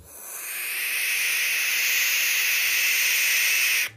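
A barn owl gives one long, harsh, hissing screech that holds steady and loud for nearly four seconds before cutting off abruptly.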